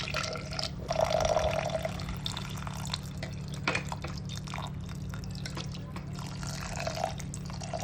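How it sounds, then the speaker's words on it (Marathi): Water is poured into a pressure cooker in a home kitchen, a brief trickling splash near the start and then softer drips, close and fairly quiet over a low steady hum. "त्यात थोडंसं पाणी टाकायचं आहे"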